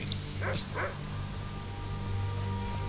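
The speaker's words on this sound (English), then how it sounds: "And that's an actual dog." A dog in Skyrim gives a couple of short soft barks and whimpers close by, over a low droning game background.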